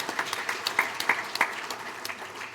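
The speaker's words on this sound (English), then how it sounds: "definitely deserves an applause line there" Audience applause at the Mississippi Press Foundation celebrity roast, a brief, fairly soft patter of clapping from a room that rises and then thins out.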